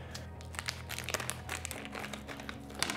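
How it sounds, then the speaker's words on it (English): A plastic bag holding thumb screws crinkles and rustles up close, irregular crackly bursts as it is handled, fairly quiet with no talking. "Locate the 4 thumb screws in plastic bag"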